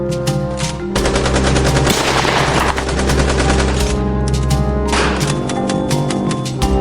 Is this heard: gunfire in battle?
yes